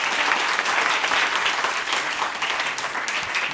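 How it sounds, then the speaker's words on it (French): Strong, sustained clapping from a studio crowd greets Kibili Djemba Kouyaté on the Bon Appetit show, a loud unbroken roar of hands that holds evenly throughout. "va applaudir très très fort"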